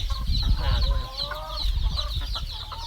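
Egg-laying hens kept as backyard village chickens cluck steadily in a run, with several birds overlapping in close, busy chatter and a short drawn-out call in the middle, over rustling and low background noise.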